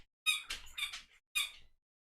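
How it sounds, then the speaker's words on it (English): A squeaker toy squeaks sharply and close by in four rapid squeezes: three quick squeaks in a cluster, a short pause, then one more. "He's got to play with a squeaker."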